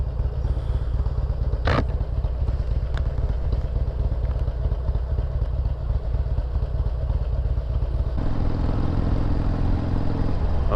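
A Harley-Davidson XL883L Superlow motorcycle rumbles steadily while being ridden past a police station, a continuous loud engine drone with wind buffeting and a deeper tone shift near the end.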